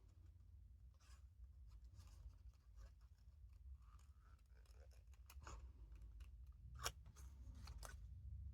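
Scissors make faint, close snips while cutting between paper leaves for a painted pear card craft, a quick irregular series over a low steady room hum.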